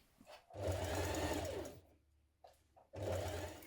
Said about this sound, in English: Now we're going to stitch that in place with a 1 centimetre seam.